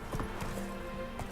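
Horse hooves trotting in The Witcher 3 video game, a quick run of rhythmic clip-clop hoofbeats over a dense, steady game soundscape.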